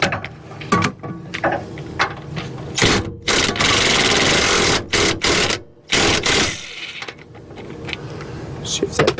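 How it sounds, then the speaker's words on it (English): A power tool drives a sway bar bolt into its hole under a P32 Workhorse motorhome, buzzing in several short and longer whirring bursts close by, with a voice talking between them. "But I think I'm going to try screwing it in"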